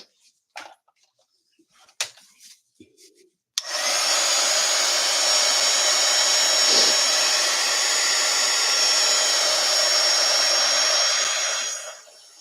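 A hair dryer blowing on an acrylic painting switches on after a few light knocks and handling sounds, then runs loud and steady for about eight seconds before cutting off.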